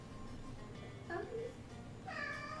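A house cat gives two short meows a second apart, close but fairly quiet over a low background hum, with faint talk nearby.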